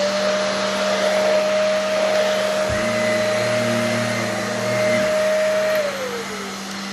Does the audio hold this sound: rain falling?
no